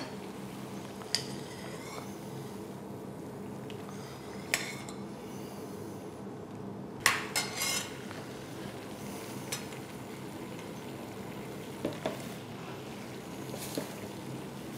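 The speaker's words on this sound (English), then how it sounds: "Mix the couscous through with a fork" A fork mixes couscous in a bowl, giving sparse, faint metallic clinks and taps spaced out over a quiet background.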